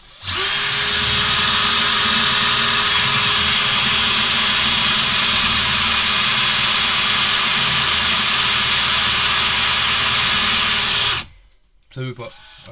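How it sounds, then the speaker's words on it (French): A percussion drill runs in drilling mode at speed 1, giving a loud, steady high-pitched whine with a low motor hum beneath it. It drones without a break for about eleven seconds, then stops abruptly and a few faint clunks follow. "Donc vitesse 1, mode perçage."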